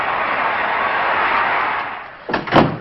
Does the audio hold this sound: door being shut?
yes